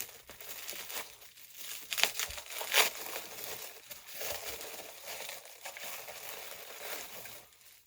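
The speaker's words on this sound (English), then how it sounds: "Let's unwrap it." Plastic packaging crinkling and tearing as an NES Top Loader console is unwrapped, irregular close crackles and rustles with a few sharper rips.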